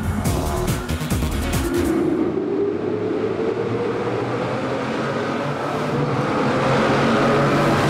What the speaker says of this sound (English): with the roof down, there's nowhere to hide from the V12 bellow